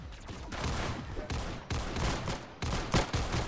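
Sniper gunfire in a first-person shooter video game, several sharp loud shots with short bursts and gaps between them, close and punchy over game noise.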